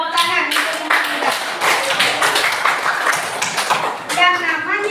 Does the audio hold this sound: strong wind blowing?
no